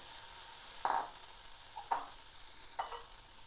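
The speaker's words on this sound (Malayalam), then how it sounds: "എന്നിട്ട് നമുക്ക് നമ്മുടെ പനീർ ഇതിലേക്ക് ഇട്ടൊന്ന് നമുക്കൊന്ന് ഫ്രൈ ചെയ്തെടുക്കാം" Paneer cubes frying over low heat in a pan, a steady faint sizzle broken by three brief stirring or turning scrapes spaced about a second apart, with no talk.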